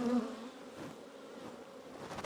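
Honeybees hum in an opened hive holding brood and a queen, a steady close buzz under the whole stretch, with no talk.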